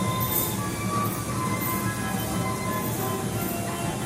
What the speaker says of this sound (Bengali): এটা হচ্ছে বেবি ট্রেন।